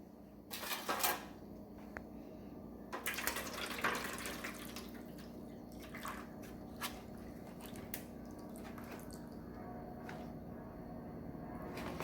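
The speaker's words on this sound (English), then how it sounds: "now we're going to remove the water from the plants, drain the water" Faint water trickles and drips as water is drained from a Rhynchostylis retusa orchid flask, with soft squishy handling noises and a few sharp clicks, quiet and close, no one speaking.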